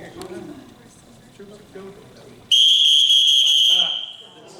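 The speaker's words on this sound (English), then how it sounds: "I've got my coach's whistle here, so listen up" A sharp, loud whistle blast lasts about a second and a half, cutting through scattered talk from people nearby.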